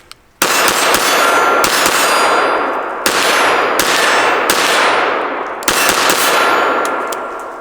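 KelTec PMR 30 pistol shots hit a steel target, several sharp, loud cracks each followed by a long bright metallic ring that decays slowly, spaced about a second or more apart.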